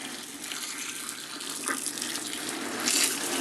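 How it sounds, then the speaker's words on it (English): Boiling water is poured into a fermentation bucket of frozen plums, a steady, close, rushing gush of liquid that grows slightly louder toward the end, with no talking. "I'm going to attempt to add the boiling water whilst holding the camera"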